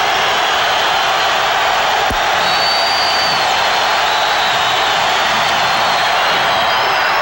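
Basketball arena crowd at a 1991 Trail Blazers vs Lakers playoff game in Portland, cheering in a loud, sustained roar that holds steady for several seconds, with one sharp whistle-like blip partway through.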